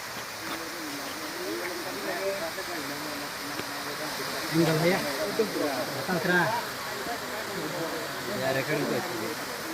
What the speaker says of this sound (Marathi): धबधबा जो की हा गोता अभयारण्यामधील हा धबधबा आहे